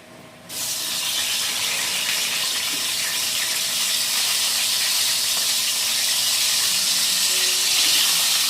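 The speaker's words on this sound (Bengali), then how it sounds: "ফুলকপিগুলো ভালো মতো একবার ভেজে নেব।" After a brief quiet start, a sudden loud hiss of cauliflower frying in hot oil begins and holds steady, close up, to the end.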